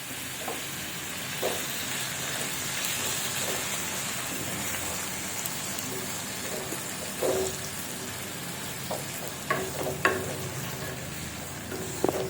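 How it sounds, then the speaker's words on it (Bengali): Ivy gourd and potato fry in oil in a wok with a steady close sizzle, punctuated by several sharper spatters and scraping stirs. "এইটাতে এই তেলেই তুলে দেবো ভাবছি কুঁদরি আর আলু ভাজা"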